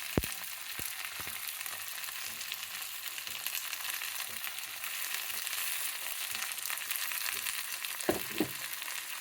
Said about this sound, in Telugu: అది దొండకాయలతో ఇది పచ్చివాసన పోయే వరకు కొంచెం వేయించుకోవాలండి.